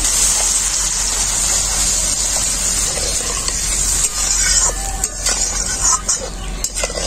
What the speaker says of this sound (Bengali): এখন আমি এর মধ্যে দিয়ে দেব পরিমাণ মতো জল।